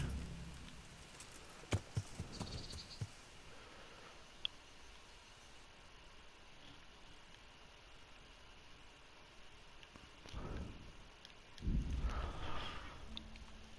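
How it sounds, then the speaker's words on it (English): Rain falls in the medieval video game Kingdom Come: Deliverance, a steady soft hiss of showers with a few scattered knocks and thuds and a louder rustling swell near the end. "Too much rain."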